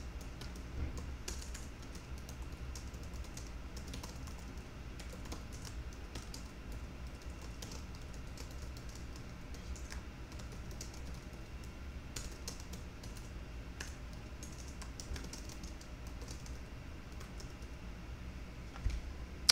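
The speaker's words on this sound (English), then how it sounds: "So I'm just going to type a message." Steady computer-keyboard typing as a message is entered, a continuous run of quick key clicks at moderate level with no talking.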